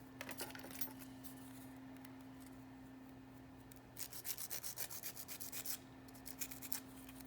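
A press-on nail is shaped with a file in faint, quick back-and-forth strokes that come in a rhythmic burst partway through, over a quiet, steady background hum.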